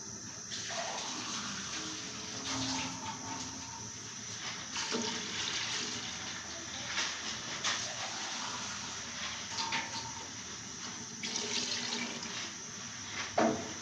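Water runs steadily into a cooking pot as liquid is added to yakhni-style aloo gosht with garlic, onion and yogurt, a soft continuous pouring and splashing with a few clatters, fairly quiet and without talk.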